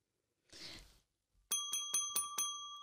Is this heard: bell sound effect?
yes